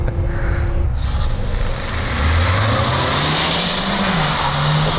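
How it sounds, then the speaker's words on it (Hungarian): An Opel Grandland X Hybrid accelerating on a test track, its engine note rising steadily in pitch under a loud, continuous rushing drone, close by. "Látványosan lassabban gyorsul egyébként még az Opel"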